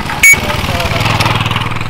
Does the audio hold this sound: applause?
no